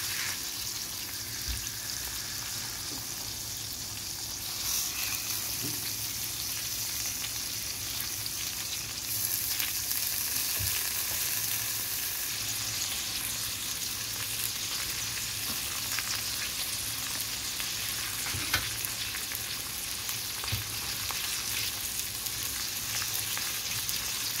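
Tomatoes sizzle and crackle steadily in a hot pan, a continuous bright frying hiss with occasional small pops and stirring scrapes, close and alone throughout.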